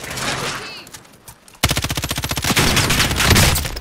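Gunfire in the video game Warzone: after a quiet moment with a faint voice, a loud rapid burst of automatic shots rattles out, continuing for about two seconds.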